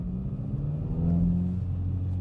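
Exhaust of a 2021 Kia ProCeed GT in sport mode, a close, steady low droning rumble with a slight swell midway, no talk.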